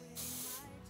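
A short, soft hiss of makeup setting spray being misted lightly onto a face lasts under a second, close but faint.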